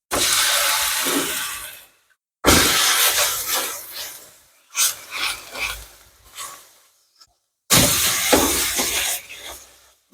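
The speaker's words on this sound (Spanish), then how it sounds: "acá tengo una sartén, un poco de aceite. Voy a ir sellando la carne." Beef seared in oil in a frying pan gives bursts of loud, close sizzling and hissing that stop briefly between pieces being added or turned.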